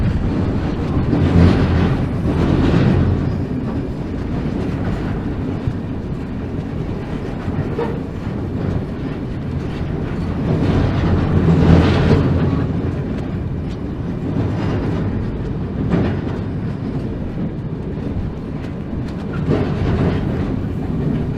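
A freight train rolls through the Sahara, heard from aboard an open wagon: a loud, steady rumble and rattle with rhythmic clickety-clack swells, the noise rising and falling as the cars sway.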